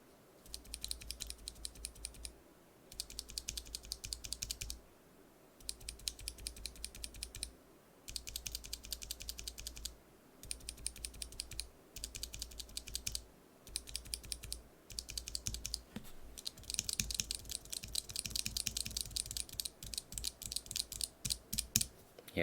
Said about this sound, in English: Yeah, these are definitely scratchier,